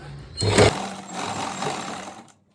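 A sewing machine stitches elastic onto lining pants in a short, fairly loud burst, rising sharply at the start and then running steadily before stopping.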